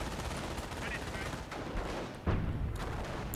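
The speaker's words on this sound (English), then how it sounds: "Alright, so this mortar is back in action" Mortar and gunfire in the Company of Heroes wartime strategy video game, a rattle of distant shots followed by a sharper, heavier report near the end, with faint voices in the mix.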